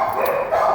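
Dogs bark in a small dog room at the Cuyahoga County Animal Shelter, a steady close run of yapping and barking that fills the whole brief moment with no talk over it.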